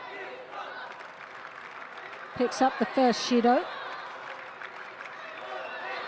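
Crowd in a judo arena at a Grand Prix bout in Tashkent, a steady murmur of spectators under a commentator's voice, swelling briefly into a short burst of cheering and clapping midway before settling back.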